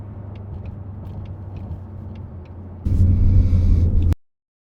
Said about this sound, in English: Little crisp downshifts in this vehicle. Third to second.